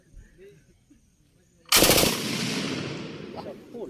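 A gun fires at a target, a loud sudden blast followed by a rattling burst that decays over a couple of seconds, close by, after quiet background chatter.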